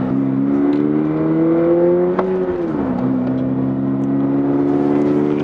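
A Toyota GR86 engine holds a steady, loud drone under gentle throttle, its pitch rising slowly, dipping briefly, then settling again, with a faint click near the middle and no voices.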